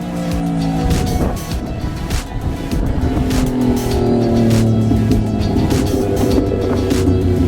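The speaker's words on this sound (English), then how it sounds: "Motorbike in the background." A motorbike engine drones steadily in the background at Highlands Park in the Philippines, its pitch rising and falling as it passes, with no talking.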